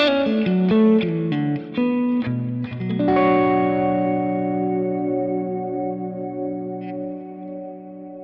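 Clean electric guitar through a TC Electronic Plethora X1 pedal's reverb preset plays a quick run of notes, then a strummed chord rings out with a long, washy reverb tail that slowly fades.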